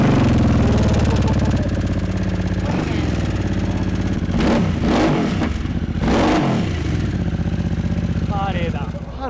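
A motorcycle engine runs loudly close by, idling with a throbbing beat and revving up in several sharp bursts.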